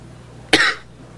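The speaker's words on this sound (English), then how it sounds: "I apologize for coughing" A single sharp, close cough from a man, one brief harsh burst that fades quickly in an otherwise quiet room.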